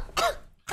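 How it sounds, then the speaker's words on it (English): A person coughs twice, one sharp, throaty burst followed shortly by another that is cut off at the end, heard close and alone during an online game session. "Can you stop coughing, please?"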